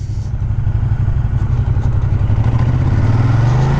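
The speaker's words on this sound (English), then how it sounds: "that deep, throaty Ducati sound" A 2017 Ducati Diavel engine runs close by with a deep, throaty, pulsing rumble, its rapid firing beat steady and then rising slightly in pitch as it revs.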